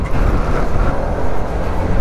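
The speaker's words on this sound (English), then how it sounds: "if you give it throttle, the engine revs" A Daytona Mista 150 motorcycle runs with a loud, rough, continuous engine rumble close by, steady throughout with no clear rise in pitch and no speech over it.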